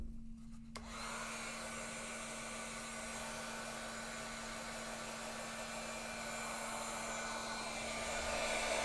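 A heat tool blows hot air over stamping foam, a steady close whirring hum with a constant tonal whine, starting after a brief moment and running unbroken to the end.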